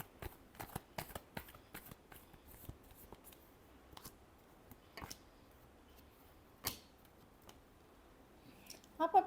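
A deck of tarot cards is shuffled nearby, producing quick riffles and sharp flicks in irregular bursts, loud at first and then sparser and quieter.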